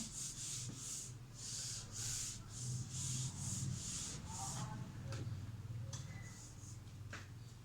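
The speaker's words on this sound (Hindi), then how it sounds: "ये हम रब कर दे रहे हैं, डेफिनेशन भी रब कर दे रहे हैं" Repeated rubbing strokes as a duster wipes writing off a classroom board during a physics lesson, a steady scratchy swishing in rhythmic passes, fairly close, with no talk.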